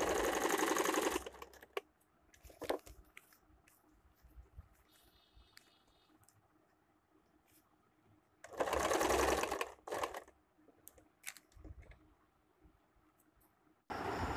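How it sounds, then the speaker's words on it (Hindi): A sewing machine stitches blouse fabric layered with paper lining in two loud, close bursts of rapid needle chatter, separated by quiet handling sounds and light clicks. "मैं पेपर और ब्लाउज़ का फैब्रिक दोनों मिलाते हुए सिलाई लगा दूंगी, पूरा घुमा के ये सिलाई लगा दूंगी।"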